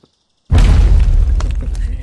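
A trash bin explodes in a video game with a sudden loud boom and a long crackling, rumbling tail after a brief silence.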